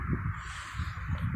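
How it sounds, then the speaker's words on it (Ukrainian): Crows caw in a quiet residential courtyard, a few harsh calls in quick rhythmic succession, close and clear against a steady background hum. "Вот с этой стороны вот такие замечательные птицы."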